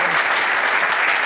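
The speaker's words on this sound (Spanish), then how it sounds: "Hay un aplauso para ella, por favor" Steady, loud applause from a conference panel audience fills the whole moment, dense clapping without pause.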